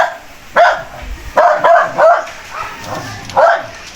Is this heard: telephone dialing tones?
no